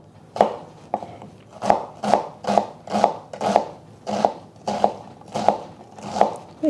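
A knife chops steadily through an onion on a cutting board, about eleven crisp, evenly spaced thuds with a slight crunch, close and clear with no talk.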